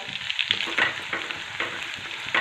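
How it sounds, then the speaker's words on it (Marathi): Crushed garlic sautés in a pan for a shev bhaji, with a steady close sizzle broken by rhythmic scraping strokes of a spatula, no voices. "लसूण छान लाल रंगावरती असा परतून घ्यायला"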